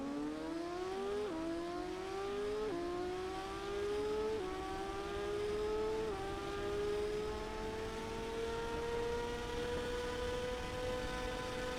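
Motorcycle engine in the racing game TT Isle of Man 2, revving up through several gear shifts at the start and then settling into a steady high whine. It sounds close and loud, with no voices.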